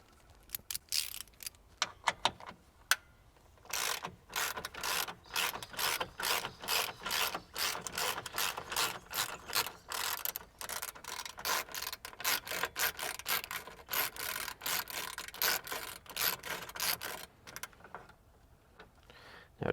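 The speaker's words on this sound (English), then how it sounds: "let's go ahead and remove these now using a 12 and a 10mm socket" A socket wrench ratchets bolts off a Toyota LandCruiser 300 Series, fast runs of close, crisp clicks in bursts with short pauses, loud and alone.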